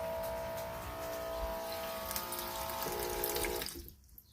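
Water pumped from a clean tank runs steadily out of a faucet in a homemade camper, a continuous close splashing stream with a faint pump whine that stops abruptly near the end.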